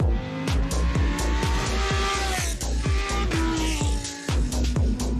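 A Lamborghini Huracán Tecnica with its V10 engine slides through a corner under throttle, the engine note droning loud and steady with rapid rising and falling pulses and a squealing tyre edge, with no voice over it.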